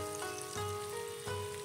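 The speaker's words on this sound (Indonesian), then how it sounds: "Sekarang kita tunggu minyaknya panas, saya mau goreng apa tahunya dulu ya." Tofu frying in hot oil in a wok makes a faint, steady sizzle with a few soft crackles and a light clink of stirring.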